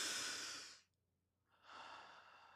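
Two close, breathy exhalations with a short silent pause between them, soft and airy in a quiet room, with no one talking.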